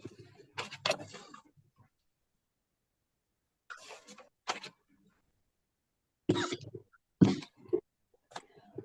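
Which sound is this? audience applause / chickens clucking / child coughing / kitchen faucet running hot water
child coughing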